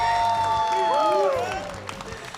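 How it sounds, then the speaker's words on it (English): A crowd at a Yu-Gi-Oh! tournament in Indianapolis claps and cheers, with the applause partly masked by a loud, tonal voice in the foreground before the noise tapers off. "All right, let's give them one more cheer,"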